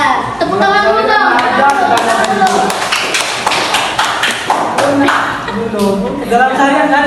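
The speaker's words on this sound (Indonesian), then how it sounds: "Tepuk tangan dulu dong." A class claps hands during an Islamic jurisprudence lesson, a burst of sharp overlapping claps in the middle, with voices talking before and after.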